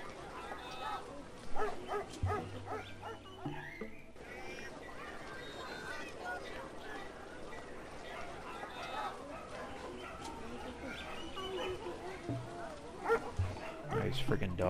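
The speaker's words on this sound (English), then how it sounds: "Nice friggin' dogs, man." Several dogs bark and yip in a Civilization IV game, short sharp barks scattered through a dense mix of game sounds, with people talking over much of it.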